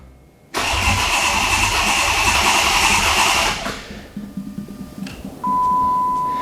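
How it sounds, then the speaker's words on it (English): Twin-charged Magnum engine cranking to build oil pressure, a loud steady starter whir for about three seconds that fades into uneven chugging, followed by a sustained tone near the end. "I do wanna actually crank the engine and build this oil pressure so it is ready to fire when we're ready to go"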